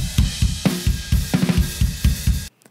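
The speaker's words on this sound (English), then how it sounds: "So the drums are going to sound like this." Drums played on a harmonica in a heavy band arrangement, a punchy pattern of thudding low hits with sharper accents, loud and close, ending abruptly in silence.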